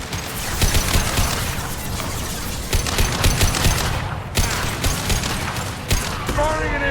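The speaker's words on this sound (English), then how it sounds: "Firing an impact shot!" Rapid bursts of gunfire and mechanical weapon noise from the game Mass Effect 2 during an impact shot, loud and dense throughout, with sharp cracks repeating over a continuous combat din and some voice activity mixed in.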